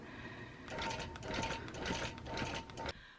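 A longarm quilting machine runs a basting stitch, a rapid mechanical whirring and clattering in several short bursts with brief pauses, close and quiet.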